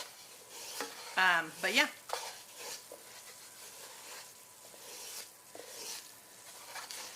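A wooden spoon stirs a Creole gumbo roux in a pot, scraping softly over a steady low sizzle, with brief clinks and a short squeaky sound, while a person speaks briefly.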